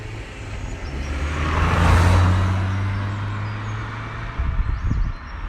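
A Mazda MX5 or BMW Z3 roadster drives past, its engine hum rising to a close, loud pass and then fading, with some rumble near the end.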